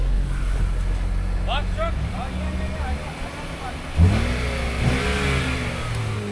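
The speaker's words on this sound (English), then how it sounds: "Motor sounds good." A Lexus RX350 engine revs in short bursts beneath a low idle, while someone speaks nearby.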